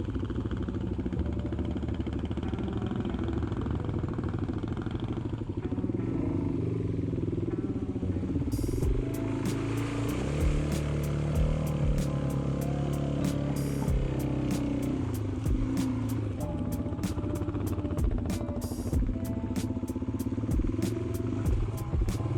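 Honda XR650 motorcycle pushing through water on a muddy, wet trail, its engine droning steadily with splashing and clattering, loud and close throughout, no talking.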